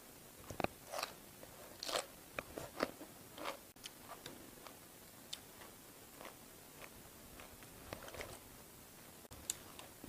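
Someone eats chilled Korean bean sprout cold soup (kongnamul naengguk), giving soft, crisp crunches and chewing clicks at irregular intervals, close but quiet against a hushed background.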